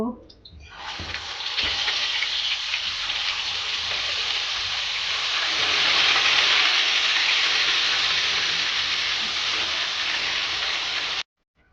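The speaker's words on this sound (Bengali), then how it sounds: "এবার বাকি মাছগুলো ভেজে নেব" Coral fish frying in hot oil gives a loud, steady, hissing sizzle that runs unbroken for about eleven seconds, then cuts off abruptly.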